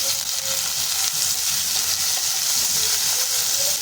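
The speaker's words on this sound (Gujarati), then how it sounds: "તો હવે આપણે તેની અંદર નાની અડધી ચમચી જેટલું જીરું ઉમેરીશું, સાથે જ 2 ચપટી જેટલી હિંગ ઉમેરીશું, 1 ચમચી આદુ લસણ મરચાંની પેસ્ટ ઉમેરીશું, બધું સાતળી લઈશું।" Cumin seeds, a couple of pinches of asafoetida and a spoonful of ginger-garlic-chili paste sauté in hot oil for a dry pigeon pea curry, giving a loud, steady, close sizzle with occasional stirring scrapes.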